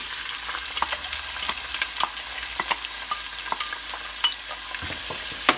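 Chopped onion frying in about half a cup of hot oil in a pan on the stove, a steady sizzle with scattered sharp crackles and pops throughout, close and fairly loud with no talking.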